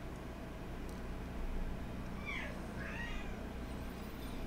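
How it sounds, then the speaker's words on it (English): Pet cats meowing faintly in a couple of rising and falling cries, set deep under a steady, noisy background hum. "My cats are asking for something"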